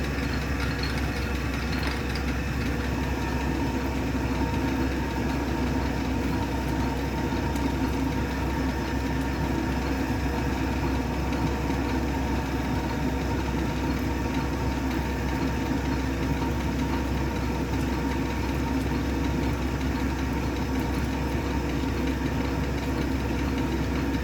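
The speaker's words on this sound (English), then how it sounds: "She's pulling a lot of material off of this little lathe." A small metal lathe takes a heavy cut, giving a loud, steady mechanical drone with a constant grinding hum that runs unbroken throughout with no talk.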